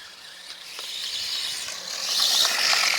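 A Reely electric RC dirt bike revs up for a wheelie, its motor giving a high, whirring mechanical whine with a ratcheting gear rattle that climbs louder toward the end, heard from a short distance.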